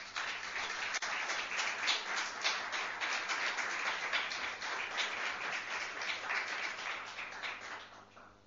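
A crowd at the 2013 UNED Day award ceremony applauds an award being collected: a continuous, fairly soft patter of many hands clapping, steady throughout and tapering at the end, with no speech.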